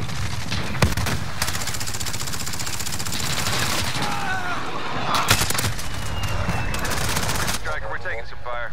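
Heavy automatic gunfire in a multiplayer shooter match, dense continuous rattling with louder bursts near one and five seconds, sustained under a busy battlefield bed before easing into softer effects at the end.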